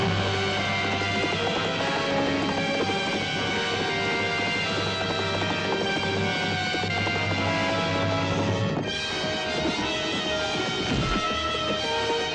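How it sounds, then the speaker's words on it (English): A swift horse gallops in an old fantasy adventure film, its hoofbeats a loud, continuous clatter blended into a dense orchestral and effects mix, with a sudden thud and a brief dip near the end. "So the horse is swift."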